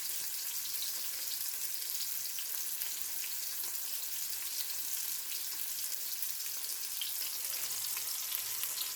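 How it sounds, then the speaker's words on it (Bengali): Fish frying crisp in a pan in a home kitchen, a continuous close, bright sizzle and crackle holding steady throughout with no voices. "অবশেষে আমার মাছ ভাজা শুরু হলো"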